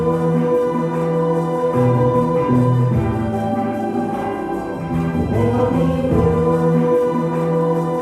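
Slowed-down sampled song looped as a hip hop beat, steady sustained tonal layers with a continuous full-band sound at constant loudness, no talking over it.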